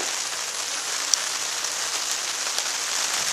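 Dense, steady patter of rain drumming on a hammock tarp during a storm, close and continuous, with an occasional louder drop striking the fabric.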